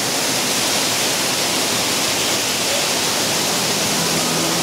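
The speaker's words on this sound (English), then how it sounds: "there's a waterfall. Look at that." A waterfall at Disney's Wilderness Lodge gives a continuous broadband rush of falling water, steady and fairly loud, with no voices over it.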